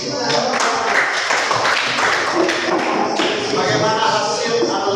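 A class of students applauding a student group in a classroom, dense close clapping that fills the room at a steady loud level, with voices mixed in underneath.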